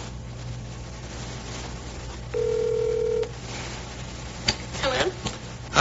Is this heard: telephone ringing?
yes